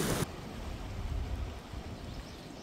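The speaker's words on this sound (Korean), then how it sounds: "와, 여러분, 비가 와요." Light rain falls during a fishing outing, making a steady, even hiss of drops on the surface that lasts the whole time, with a brief sharp burst at the very start.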